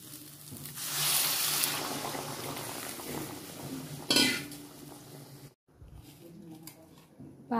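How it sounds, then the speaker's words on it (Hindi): Hot water poured into frying masala in a kitchen pan, a rushing splash and sizzle in the first seconds followed by clinks of utensils against the pan and a sharp metallic knock near the end. "अब मैं ये गर्म पानी बनाई हूँ, इसको ऐड कर देती हूँ।"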